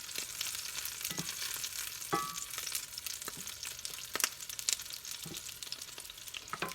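Peppers fry in a pan on the stove with a steady broadband sizzle, while occasional sharper crackles and spatters pop through as the food is moved.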